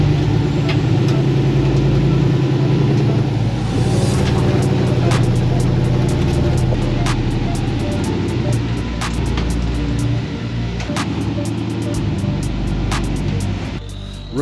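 A car's engine works steadily at low revs while crawling up a rock waterfall face and crack on an off-road trail, a continuous loud rumble with scattered clicks and knocks of tires on stone.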